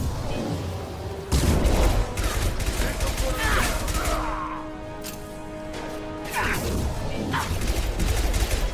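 Submachine gun in the Mass Effect 2 video game firing in rapid bursts amid crashing impacts, loud and near, with a quieter lull midway before the firing resumes; a voice speaks at points.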